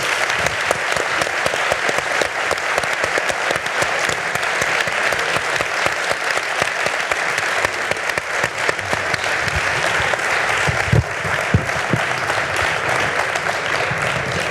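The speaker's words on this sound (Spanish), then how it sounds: "Un aplauso." Sustained applause from a large crowd, loud and steady throughout with no pauses, dense clapping filling the whole stretch.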